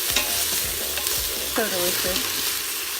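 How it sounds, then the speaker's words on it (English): Vegetables and bacon sizzle and pop in an Instant Pot, a steady close frying hiss with occasional scraping stirs, while a voice briefly comments over it. "now we're all popping and sizzling and everything is covered in bacon"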